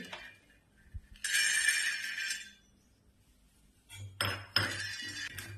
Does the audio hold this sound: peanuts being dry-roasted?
yes